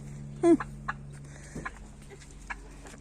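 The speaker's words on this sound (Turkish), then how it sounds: "Ne var orada? Tavuklar mı var? Horoza bak" A couple of short clucks from nearby chickens and a rooster in a garden over a low steady hum, with a brief louder squawk near the start and faint scattered calls after.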